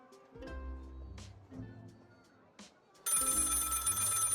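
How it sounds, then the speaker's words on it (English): A telephone rings with repeated bell trills and gaps between them, then a louder, brighter ring bursts in near the end, close and clear with no one talking. "Phone ring."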